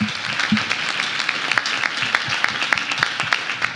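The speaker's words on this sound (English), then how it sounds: "Give Jen a round of applause" A small business-meeting audience applauds a speaker, a moderate room of clapping with distinct sharp individual claps standing out in a loose, uneven rhythm.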